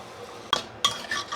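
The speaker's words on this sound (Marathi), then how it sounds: "आधी मी छान मसाल्यासोबत ती परतून घेणार आहे" Soaked lentils being sautéed with goda masala, salt and coriander in a tempering in a pan, heard as a quiet sizzle broken by two or three sharp scrapes and clinks of a spoon against the pan.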